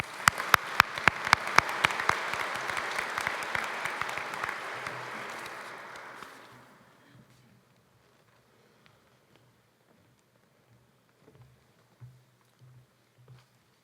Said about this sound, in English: please join me with a round of applause to congratulate all of our award recipients